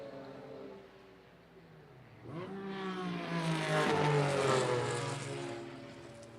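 Porsche race cars lapping the mile-and-a-half Lime Rock Park road circuit, one engine note climbing loudly as a car approaches and passes close by, then easing off, over a steady background engine drone.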